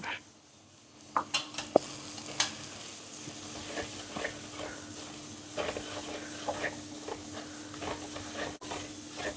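Chili and turmeric powder fry in oil for fish curry, giving a steady low sizzle with repeated scraping and clinking of a spoon stirring in the pan, close and without talk.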